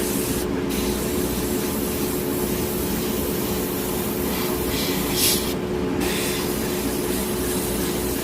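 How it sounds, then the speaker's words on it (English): Continuous airbrush spraying paint onto paper from about a centimeter away, a steady close hiss with a couple of brief breaks where the spray cuts out. "Spraying from about a centimeter away from the paper."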